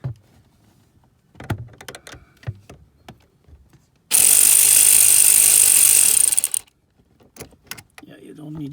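Loud, steady ratcheting rattle from a 10 mm socket on a long extension loosening the battery terminal bolt of a Mercedes GL450, running about two seconds in the middle, with quieter handling clicks and brief speech before and after.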